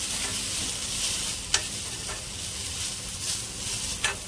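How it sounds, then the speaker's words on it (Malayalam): Spoon stirring a homemade hair mixture with fenugreek powder in a pan, producing a soft continuous scraping hiss with a couple of faint clicks, close and fairly quiet. "ഇത് ഇത്രയും കൂടെ നമുക്ക് ഒന്നുകൂടി ഒന്ന് മിക്സ് ചെയ്യാം നല്ലോണം"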